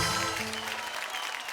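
Audience applause on a Hindi TV talk show, a dense steady wash of clapping from a studio crowd, loud and continuous throughout.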